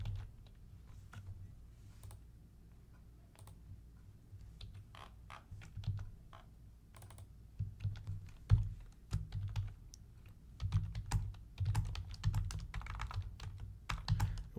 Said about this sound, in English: we'll type in our full phrase